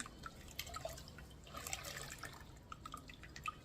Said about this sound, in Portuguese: Agora eu vou molhar a parte de dentro, né? Aqui no meu balde de água